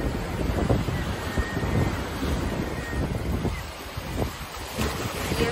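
Cold sea waves wash and roll onto the beach at Nazaré, Portugal, a constant surging roar with a strong pull, mixed with heavy wind buffeting the microphone.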